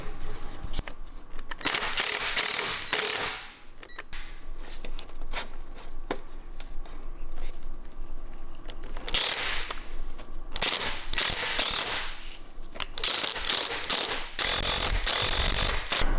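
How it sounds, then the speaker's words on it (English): Hand tools tightening clamps on a Magnaflow catback car exhaust, heard as repeated bursts of sharp metallic ratcheting and clanking, fairly close and moderately loud, with quieter pauses between the bursts. "Alright, so now we're just going to tighten all these clamps."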